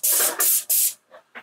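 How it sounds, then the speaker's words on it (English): Three loud, sustained bursts of hissing spray from a paint spray gun with a Cleanshot valve, close by, each about a quarter second, followed by two short, quieter puffs. "You can spray your woodwork with these clean shots."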